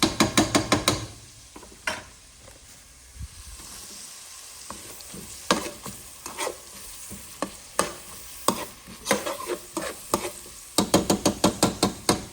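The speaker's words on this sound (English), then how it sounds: "So, we got all our vegetables in. And we're going to let it cook down." Vegetables with bell pepper for Southern-style green beans sizzle and cook down in a pot, with steady frying hiss broken by bursts of sharp spoon-against-pot stirring clatter, loudest at the start and end.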